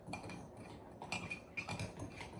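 The end of a spoon stirring mug cake batter in a mug, faint repeated clinks and scrapes against the ceramic in an irregular rhythm.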